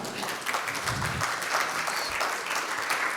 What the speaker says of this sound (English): let's give them a round of applause for being brave enough.